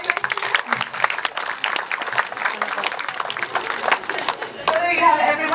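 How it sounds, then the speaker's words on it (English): Audience applause at a sea lion show: a sustained wash of clapping from a crowd, with some chatter mixed in, swelling slightly louder near the end. "Give them a little round of applause."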